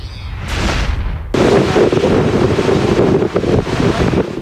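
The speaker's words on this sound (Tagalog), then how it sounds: "Panaka-naka ang ulan pero dama matinding ihip ng hangin sa Surigao City kagabi." Strong coastal wind in Surigao City, Philippines, roars and buffets the microphone, rising abruptly into a loud, sustained gusting blast with surf-like rushing underneath.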